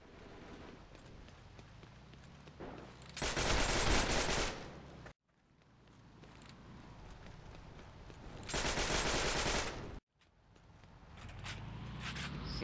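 MG42 machine gun firing in a video game: two long, loud bursts of rapid automatic fire over a steady wind-like game ambience, with another burst starting at the end.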